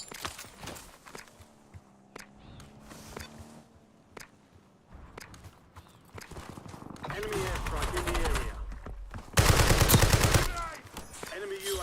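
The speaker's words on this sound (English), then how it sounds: "Taking fire over here." Incoming gunfire in a Warzone-style Resurgence solos match: scattered shots and bursts, growing dense and loud toward the end with rapid fusillades, mixed with footsteps and game noise while a player talks over it.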